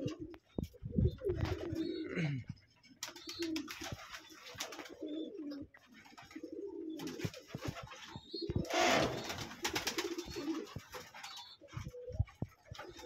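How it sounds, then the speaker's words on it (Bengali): Pigeons coo repeatedly in a loft during morning feeding, with overlapping rolling calls at close range alongside scattered rustling and bursts of wing or movement noise. "অনেক কবুতরই পানি পিপাসায় ঢুকছে"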